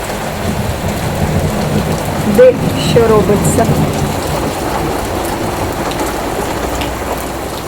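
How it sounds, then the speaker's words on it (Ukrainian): Heavy rain mixed with hail pours down steadily in a thunderstorm in Kharkiv, a dense, close hiss with a few sharper impacts, while a voice briefly speaks over it. "Все, друзі, замість доща йде град"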